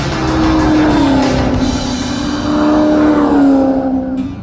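A race car at Auto Club Speedway in Fontana, chasing a Corvette, drones loudly with a sustained engine tone that rises and dips between shifts, plus tire noise. No talking.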